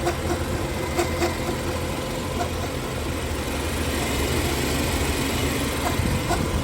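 A 2013 BMW X5 with a 3.5-litre six-cylinder twin-turbo engine idling with a fault noise near the alternator belt and tensioner, a steady close engine drone with faint regular ticking.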